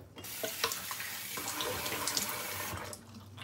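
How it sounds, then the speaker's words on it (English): Warm water runs steadily from a bathroom tap into a sink and is splashed onto a face during a shave, with a close, continuous gush and splashing for about three seconds before it eases off. "I'm gonna splash some warm water on my face"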